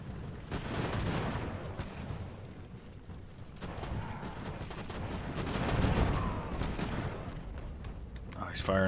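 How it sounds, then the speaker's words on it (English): Cannon fire booms across a Bunker Hill battle in the naval and land strategy game Ultimate Admiral: Age of Sail, with muffled rolling reports and battle noise rising and falling, and a voice speaking underneath. "Oh, he's firing with the artillery again."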